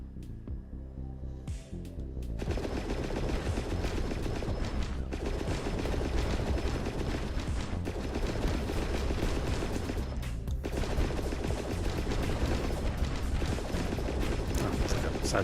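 Continuous rapid gunfire and explosions from a side-scrolling shooter video game, a loud dense barrage that starts after about two seconds and holds steady, with a voice briefly heard.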